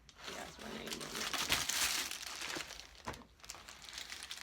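Plastic of an Amazon mail package crinkles and tears close up in rapid, uneven bursts, loudest around the middle, as the package is opened.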